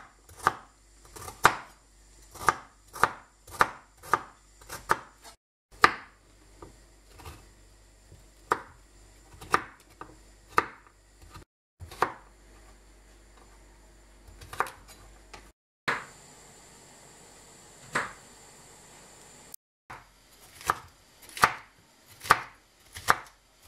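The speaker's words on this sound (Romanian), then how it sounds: "Rădăcinoasele au fost curățate, le tocăm" Peeled root vegetables chopped with a knife on a board for Romanian lamb ciorbă, close and distinct: bursts of quick, regular knife strikes separated by short pauses, with no talk.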